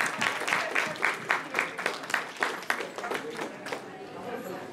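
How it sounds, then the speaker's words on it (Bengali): An audience at a Bangladeshi community event claps together, a run of quick rhythmic applause with clear beat-like peaks that thins out and fades near the end while someone speaks over it. "সবাই প্রিয় ভাই এবং ফারহানা আপুর জন্য আরেকটি করতালি দিই।"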